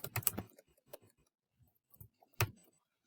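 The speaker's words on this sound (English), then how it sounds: "now I'm going to type in the subject I want to teach" Quiet, close typing on a computer keyboard: a quick cluster of clicks, then a few scattered keystrokes separated by pauses.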